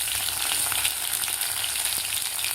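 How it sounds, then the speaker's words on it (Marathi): Crushed garlic cloves frying in hot oil with mustard seeds for a sprouted moth bean dish, a dense steady close sizzle with faint crackles and pops throughout, no talk. "लसूण थोडासा आपल्याला परतून घ्यायचा आहे."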